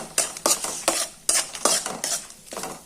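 Whole cumin seeds lightly fry in a pan for egg curry while a utensil stirs and scrapes in about seven brisk, evenly spaced strokes, each a bright, close scratching burst over a faint background.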